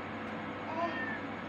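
A cat meows once in a village yard, a short faint rising call heard close against steady outdoor background noise.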